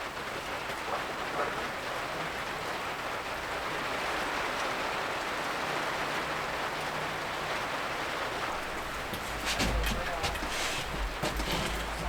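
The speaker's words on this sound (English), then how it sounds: "just started raining." Steady rain falls outside a workshop, a dense continuous hiss throughout, with some clattering knocks near the end.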